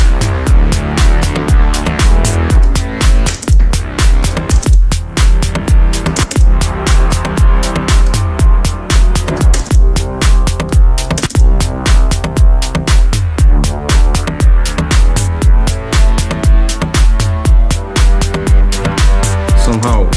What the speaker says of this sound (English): Way too much reverb.